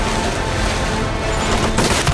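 Gunfire from the 2016 war film Hacksaw Ridge, a dense, loud barrage of shots and booms that runs continuously with no talk over it.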